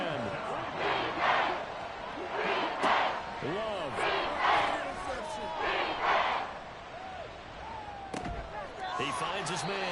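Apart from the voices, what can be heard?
football stadium crowd cheering and roaring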